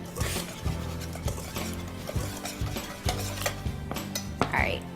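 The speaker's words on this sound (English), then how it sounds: "now I'm going to just mix up these dry ingredients" Dry ingredients being mixed in a bowl, with a utensil scraping and clinking against the bowl in a quick, repeated stirring rhythm, close and moderately loud, no voices heard.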